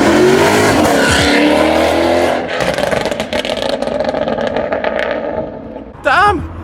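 A Maserati GranTurismo MC Stradale's naturally aspirated engine roars loudly as it accelerates hard, a dense sustained howl with rising pitch sweeps, dropping briefly before a sharp shift-like burst near the end; a person talks over parts of it.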